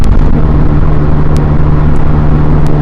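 A Ferrari F40 twin-turbo engine drones steadily and loudly at a constant pitch throughout, with a few faint clicks over the top.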